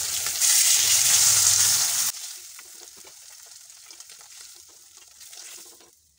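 Pieces of catla fish fry in hot oil, a loud dense sizzle in the opening two seconds that drops to a quieter, crackling simmer with a few small clinks for the rest.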